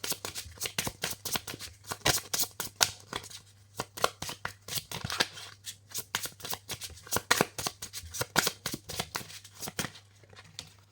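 Tarot cards shuffled by hand on a table: a quiet, rapid run of crisp riffling taps and slaps in an uneven rhythm, close up and with no voices over it.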